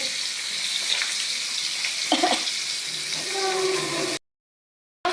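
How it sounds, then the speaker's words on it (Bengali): Pabda fish fry in hot oil with a steady, hissing sizzle and a few brief clinks or voice-like sounds. The sound stops abruptly into silence near the end. "পাবদা মাছটা প্রথমে ভেজে নিচ্ছি"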